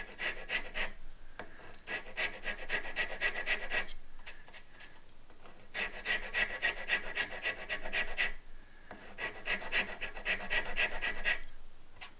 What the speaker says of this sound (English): I'm gonna grab another rasp here.